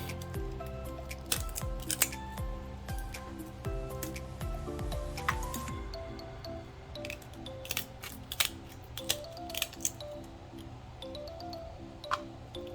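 Kitchen shears snip through a lobster tail shell with a run of crisp, close clicks and cuts, spaced irregularly over steady background music.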